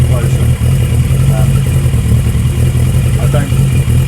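A Kawasaki ER6 motorcycle engine running loud and close, a rough low rumble held at high revs with a slight clattering edge throughout.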